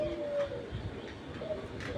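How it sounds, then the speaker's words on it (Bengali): A club pigeon being held in hand flutters and shuffles restlessly, giving soft, low cooing notes up close while a voice talks quietly nearby. "কবুতরটা ছটফট করতেছে আসলে"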